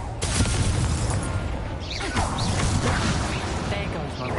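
A Confringo blasting spell cast in Hogwarts Legacy, a loud booming burst with crashing debris and a whooshing sweep, close and dense over a busy game background, with a voice speaking over it.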